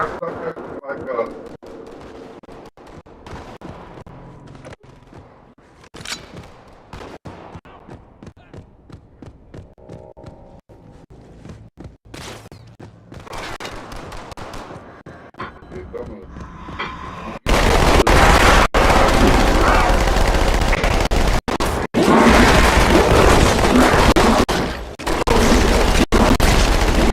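Rapid bursts of gunfire and explosions from a shooter video game, sparse and scattered at first, then erupting into a loud, dense barrage in the second half, with players shouting over the action.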